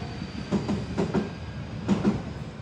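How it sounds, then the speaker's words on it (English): A train passes on nearby tracks in Japan, heard outdoors from a park bench as a steady rumble with rhythmic clacking wheel beats, moderately loud and without talk. "There goes another train."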